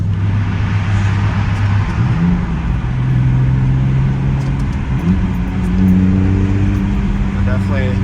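The engine of a 2003 BMW 330ci with its muffler deleted drones steadily nearby at a low, throaty pitch that rises slightly toward the end, while someone talks over it.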